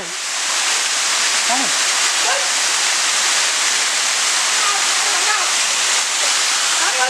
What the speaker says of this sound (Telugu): నేను జలపాతాన్ని ఎక్కుతున్నాను